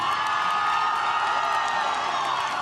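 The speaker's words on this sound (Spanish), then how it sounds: "El público estalló en aplausos cuando llegó a la cima" A large crowd cheers and applauds as Alex reaches the top of Taipei 101 after climbing without ropes or safety nets, a continuous roar of voices and whoops with clapping mixed in.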